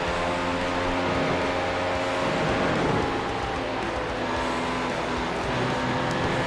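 Formula 1 car engine in iRacing at Silverstone, throttle feathered on the exit of Copse with little grip; a loud, close, sustained buzzing drone with a shifting pitch and no clear pauses.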